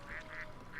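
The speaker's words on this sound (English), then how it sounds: "I love my little ducks" Ducks in The Sims 4 giving a few soft, honking quacks in a quick series, faint and close, with no one talking.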